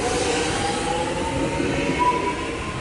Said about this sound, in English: we've got this train departing